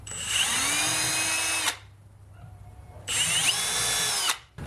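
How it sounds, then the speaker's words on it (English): Power drill pre-drilling pilot holes in scrap wood for a rustic wooden flag cross, two loud whining bursts of about a second and a half each, separated by a quiet pause. "Go ahead and pre-drill those so they don't split the wood."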